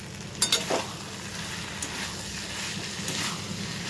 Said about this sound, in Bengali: মাছের মাথাটা দিয়ে দিলাম। মাছের মাথাটা দিয়ে একটুখানি হতে দেবো, গ্যাসটা কমিয়ে দিয়ে।